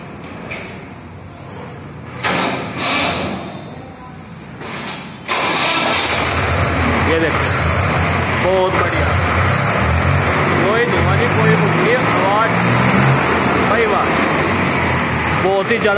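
A 265 model tractor engine cranking and catching, then settling into a loud, steady diesel chug close by, with voices talking over it.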